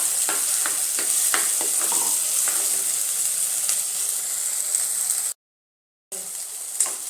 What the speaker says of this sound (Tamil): நம்ம அரைச்சி வச்சுருக்கிற மசாலா அரைச்சி வச்சுருக்கிற மசாலா இதில் போட்டு கிளறிக்கலாம்